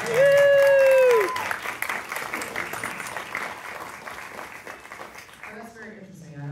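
Audience applause breaks out at a film premiere Q&A, a dense patter of clapping that swells and then fades over several seconds, with a voice speaking over it at the start and again near the end.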